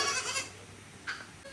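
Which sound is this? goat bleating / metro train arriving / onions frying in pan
goat bleating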